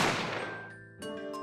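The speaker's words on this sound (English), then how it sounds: "Gunshot rang out" A single sharp gunshot cracks out in the detective game The Great Ace Attorney Chronicles, decaying into a ringing tonal tail before a second chime-like hit follows.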